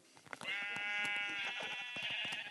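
A loud, drawn-out sheep bleat from Minecraft repeats twice, bright and wavering, over scattered clicks and taps nearby.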